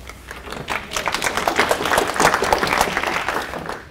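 An audience applauds to welcome speaker Cameron Neylon before his talk on 21st-century publishing, a full, even round of clapping that swells and then tapers off near the end.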